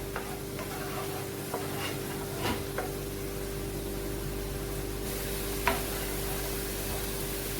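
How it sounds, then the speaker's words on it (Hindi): Garlic paste frying in a pan for a chicken pizza, a steady soft sizzle with occasional light stirring clicks and scrapes, no voices. "पहले हम ये गार्लिक पेस्ट को अच्छी तरह से भूनेंगे।"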